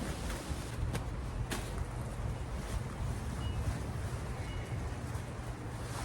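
Wind blows steadily through a garden on a gusty day, a low rumbling rush with buffeting against the microphone and a couple of faint clicks; quiet and continuous, no speech.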